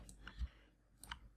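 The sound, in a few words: computer mouse right-click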